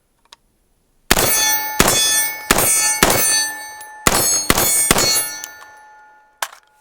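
Rounds from a cheap AR-15 with a misaligned front sight post strike a steel target, giving about seven loud ringing metallic clangs in an irregular burst, each leaving a sustained bell-like ring that fades out.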